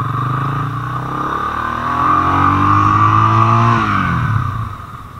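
A 2022 Motorstar Cafe 400 motorcycle rides past and accelerates, its engine note climbing in pitch as it revs up, holding loud and steady near the listener, then easing off and fading at the end.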